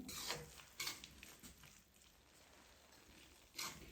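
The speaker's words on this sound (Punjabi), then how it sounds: "ਇਸ ਨੂੰ ਚੰਗੀ ਤਰ੍ਹਾਂ ਮਿਕਸ ਕਰਕੇ 1 ਮਿੰਟ ਲਈ ਭੁੰਨ ਲਵਾਂਗੇ" A spatula scrapes and stirs dry garam masala and kasuri methi roasting in a pan, giving a few sharp metallic clinks over a faint, quiet sizzle.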